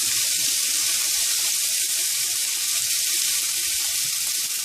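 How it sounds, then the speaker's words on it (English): Onions and garlic sautéing in a pan produce a loud, steady hiss of sizzling oil, close up and unbroken, with no voices. "he's going to saute the onions and the garlic."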